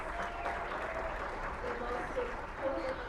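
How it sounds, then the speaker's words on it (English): Audience applause at an Indigenous pre-COP gathering, a fairly faint, even patter of clapping across the whole stretch, with a voice speaking over it. "A round of applause to our Coiab General Coordinator"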